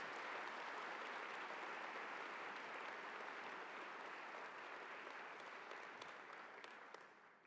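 Audience applause at a university convocation fills the hall in a steady, dense wash of many clapping hands, distant and quiet, holding for several seconds and tapering slightly at the end.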